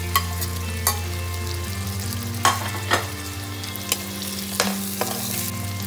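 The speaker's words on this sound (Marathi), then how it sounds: "टमाटरमधून त्याची पाठीमागची स्किन जोपर्यंत निघत नाही तोपर्यंत त्याला आपण फ्राय करायचं आहे." Tomatoes frying with onion, garlic and ginger in a pan, a continuous sizzle under a low steady burner hum, broken by several sharp scraping clacks of a spoon stirring, with no one talking.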